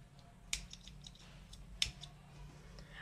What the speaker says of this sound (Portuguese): Vou cortar aqui essa sobra.